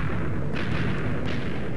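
A muffled, booming Minecraft explosion blast rolls out twice in quick succession over a dense rumbling background, heard close.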